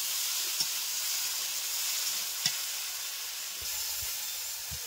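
Shukto vegetables fry softly in a pan, a steady low hiss with a couple of faint clicks and scrapes of stirring, heard alone without talk.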